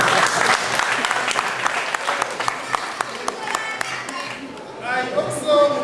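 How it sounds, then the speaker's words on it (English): Applause from an audience at a school visit event between two colleges, a dense wash of clapping that fades toward the end, with voices and cheering rising over it in the last second. "I think we should clap ourselves for that kind of strength."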